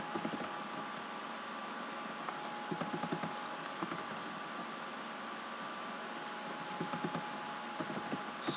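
C# code being typed on a computer keyboard, scattered quiet clusters of key clicks over a steady background hum of a room or fan, with no talking.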